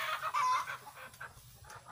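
Chickens cluck softly on a small farm in the Philippines, several short broken calls from a few birds at moderate distance, fairly faint.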